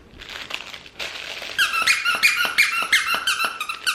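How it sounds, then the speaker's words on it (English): A small plush top hat dog toy squeaks, starting with faint squeezes and then a rapid run of loud, sharp, high-pitched squeaks pumped in a steady rhythm at close range. "Is there a squeak in it? Oh Lord, there's a squeak in it."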